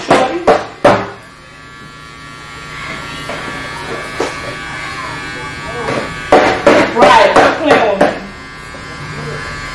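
Electric hair clippers buzzing close up while cutting a boyfriend's hair, the drone steady under bursts of voices talking and laughing, with louder clusters of talk near the start and toward the end.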